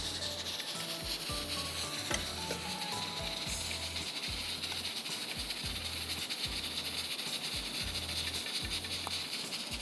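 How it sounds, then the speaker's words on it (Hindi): Half a cup of clarified butter sizzles as it goes into hot ghee while cooking eggs with peas, a steady close frying hiss with soft rhythmic stirring scrapes underneath throughout. "ये देखें, ये मैं डाल रही हूँ मक्खन, क्लैरिफाइड बटर हाफ कप"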